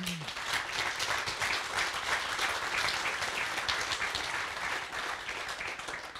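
Steady audience applause at a German evening panel event on net neutrality, a dense continuous clapping wash that holds at an even level for several seconds without talk.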